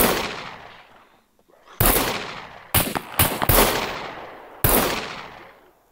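Gunfire in the survival video game SCUM: a handful of sharp, loud shots, some single and some in quick pairs, each with a long echoing decay, with no talking.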